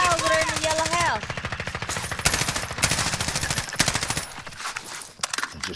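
Rapid, sustained automatic gunfire from the video game Call of Duty: Modern Warfare runs loud and continuous throughout, with a brief voice or tonal sound at the start.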